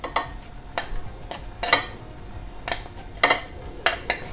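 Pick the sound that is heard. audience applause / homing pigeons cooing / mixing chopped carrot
mixing chopped carrot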